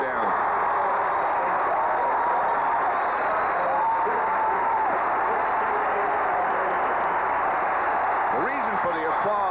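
Stadium crowd applauding at a 1983 Thanksgiving Day NFL football game, Cardinals at Cowboys, a steady broad wash of clapping and cheering throughout, with a commentator talking over it.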